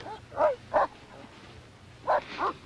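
A dog barks four times, two short woofs then a pause and two more, moderately close against a quiet room background.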